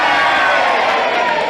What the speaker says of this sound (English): will you please cheer?